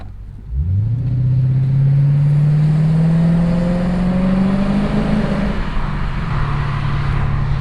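A Lexus RC F with its chassis cut for wider front wheels and tires starts up and drives; the engine note climbs steadily into a strong, smooth drone and holds close and loud throughout, with no voices.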